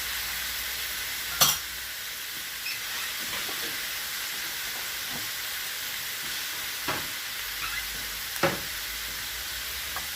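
Calamansi juice splashes into beef cubes frying in a hot pan, raising a steady close sizzle with a few sharp crackling pops breaking through the continuous hiss.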